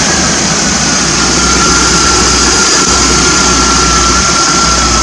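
A 1980 Triumph TR7 engine idles a little high while warming up, giving a loud, steady, close rumble with constant low-end drone and no revving, alone without voices.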